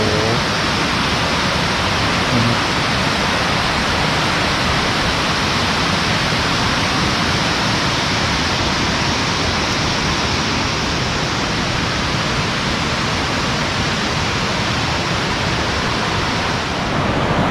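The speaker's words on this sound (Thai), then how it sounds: "นี่ครับ น้ำตก" The Tat Sae waterfall near Luang Prabang, Laos, gives a constant, dense rushing roar of falling water, steady and loud throughout with no break.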